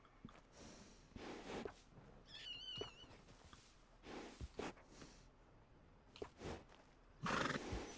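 Red Dead Redemption II horse in the video game gives a clear whinny partway through, amid a few soft hoof clops and snorting breaths, close and fairly quiet with no talk.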